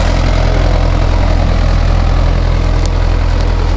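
A Mahindra tractor engine idles loudly and steadily at close range, a constant low diesel rumble with an even mechanical throb and no breaks.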